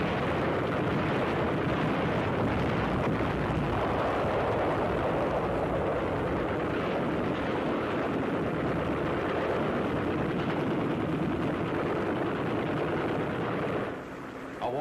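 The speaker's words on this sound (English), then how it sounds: "Naval bombardment of the beach area continues, augmented by an intensive close-in cover barrage delivered by LCIs." Naval bombardment of the Iwo Jima beach area with an intensive close-in cover barrage from LCIs: a dense, continuous roar of massed gunfire and explosions rumbling without pause, easing off abruptly near the end.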